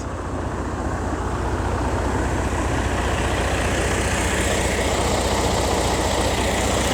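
A car engine idles with its catalytic converter removed, giving a loud, rough, steady rumble that stays close and constant throughout, with no talk over it.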